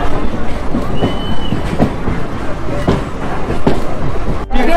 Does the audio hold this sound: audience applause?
no